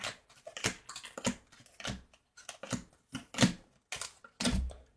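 Tarot cards laid down one after another on a table, a quick irregular series of crisp slaps and slides, close and fairly loud with no talking.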